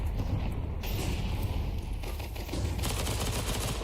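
Dense, rapid submachine gun fire rattles almost without pause through a Counter-Strike match on Dust 2, loud and close with overlapping bursts and no spoken voices.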